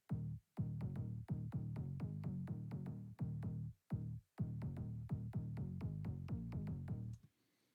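Layered tech house synth bass combining main, mid and high layers, playing a punchy rhythmic pattern of repeated short notes with brief gaps between phrases, loud and alone with no talking.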